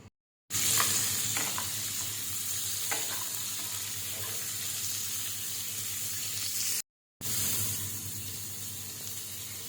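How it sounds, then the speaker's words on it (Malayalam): Chopped onion and ginger sizzle in the oil left from frying fish, a steady close hiss and crackle with faint stirring, broken by two brief silent gaps. "ഫിഷ് ഫ്രൈ ചെയ്ത ഓയിലിലേക്ക് തന്നെ നമുക്ക് ഈ അരിഞ്ഞു വെച്ചിരിക്കുന്ന സവാളയും ഇഞ്ചിയൊക്കെ ഇട്ട്"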